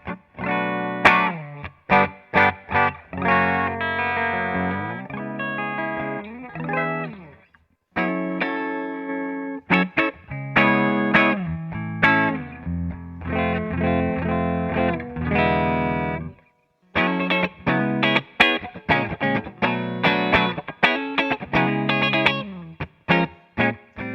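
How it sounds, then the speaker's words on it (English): Clean bass guitar tone through a Beetronics Royal Jelly fuzz and overdrive pedal setup, a series of plucked bass notes and short riffs with pauses between phrases, played close and alone without talking. "I'll establish a bass tone, kind of give us our clean sounds"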